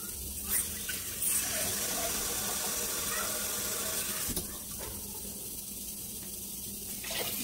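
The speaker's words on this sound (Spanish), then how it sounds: "voy a colocar 2 vasos de agua." Water is poured from a glass onto uncooked rice in a pot, two separate pours with a steady splashing gush between short pauses, close and moderately loud with no talking.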